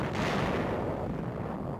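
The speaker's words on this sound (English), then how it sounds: "Jap 5-inch coastal guns fire at our fleet units offshore." Japanese 5-inch coastal guns at Balikpapan, Borneo, firing at fleet units offshore during the 1945 World War II landing: one loud, booming report whose dense roar slowly fades over two seconds, with no talk.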